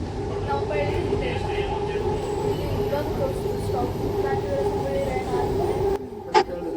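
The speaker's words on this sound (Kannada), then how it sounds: "ನನ್ನ ಮಗಳು ನಾನು ಈಗ ಮೆಟ್ರೋದಲ್ಲಿ ಹೋಗ್ತಾ ಇದ್ದೀವಿ" Steady low rumble and hum of a Bangalore metro train in motion, heard from inside, continuous throughout, with a brief clunk near the end as the sound drops slightly.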